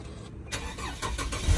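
A 2013 Dodge Charger with a V6 engine starts: a brief crank and a moment of quiet, then the engine catches and settles into a close, rising idle rumble.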